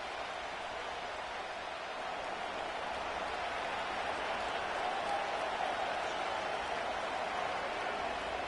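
A stadium crowd in an EA Sports NFL football game produces a steady, broad wash of cheering and applause, even and sustained throughout without distinct peaks.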